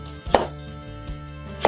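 A knife slices food on a board, two crisp, close cuts spaced over a short, otherwise quiet stretch.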